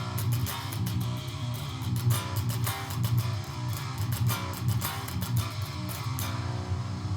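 A distorted electric guitar plays a riff as single notes, with hammer-ons and pull-offs in a fast, steady, chugging rhythm, loud and close with no talking.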